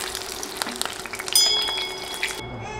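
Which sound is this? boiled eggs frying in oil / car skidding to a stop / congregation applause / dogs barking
boiled eggs frying in oil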